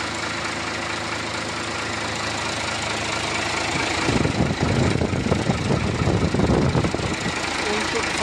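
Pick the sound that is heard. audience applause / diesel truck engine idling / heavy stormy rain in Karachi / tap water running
diesel truck engine idling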